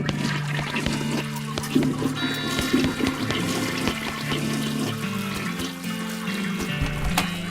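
A broken toilet being fished around in during the video game West of Loathing, heard as a steady watery flush and trickle under a continuous game music bed.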